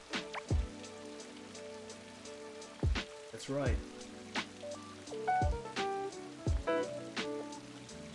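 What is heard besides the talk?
rain falling in the video game Blue Reflection Sun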